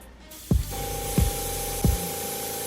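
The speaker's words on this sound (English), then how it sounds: "I'm just gonna spray the top with this black." Three short bursts of black spray paint, evenly spaced, each starting with a sharp thump and pushing a loud hiss over a steady background.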